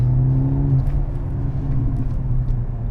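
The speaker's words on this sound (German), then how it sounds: "Wobei er ganz leicht hinten rausknallt." A 2022 Mercedes-AMG C43 engine drones in a steady, loud low rumble from close by, with a faint pop or crackle from the exhaust at the rear.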